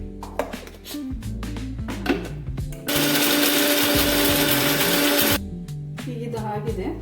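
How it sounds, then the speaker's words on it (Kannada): A kitchen mixer grinder whirs loudly and steadily as it grinds pistachios for a chocolate kunafa dessert, a sustained blade roar of a few seconds set between clattering handling and pot noises. "ಇಲ್ಲೊಂದು ಸ್ವಲ್ಪ ಪಿಸ್ತಾ ತೊಗೊಂಡಿದ್ದೀನಿ, ಇದನ್ನ ಮಿಕ್ಸಿ ಮಾಡ್ಕೋಬೇಕು."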